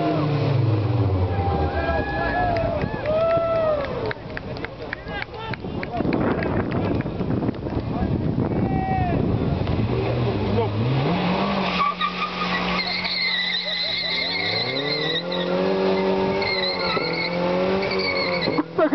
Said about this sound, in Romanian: BMW învârte doar ambreiajul.